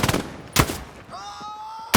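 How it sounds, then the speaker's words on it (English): MG 42 machine gun firing in the World War II shooter game Hell Let Loose, a few loud sharp bursts close by with a tone-like ring between them. "MG 42."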